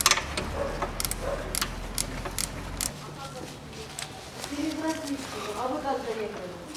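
A ratchet with an 8 mm socket unscrews a heat exchanger bolt on a 2011 Range Rover Evoque 2.2. Rapid, close clicks come in bursts over the first few seconds, and someone is talking.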